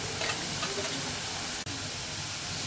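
Spice paste for Singaporean chilli crab sizzles and fries in hot oil, a dense steady crackle with stirring scrapes throughout, close and loud with a brief dropout midway.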